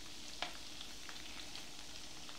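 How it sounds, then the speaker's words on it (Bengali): Chicken fries in a pan for pulao with a quiet continuous sizzle, marked by one sharper spatter or stir click near the start and a few softer ticks after. "একটু লাল করে ভেজে নিতে হবে,"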